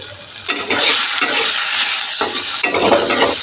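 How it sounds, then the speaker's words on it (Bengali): Small pieces of medium-sized potato with a pinch of turmeric frying loudly in a pan, a close, continuous sizzle that surges in bursts as they are stirred. "আলু লাল লাল করে ভেজে নিয়েছি"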